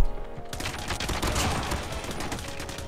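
Pistol fire in a Call of Duty Mobile match, a burst of rapid, sharp shots crackling densely and loudly for a couple of seconds after a brief quiet start, with no talk over it.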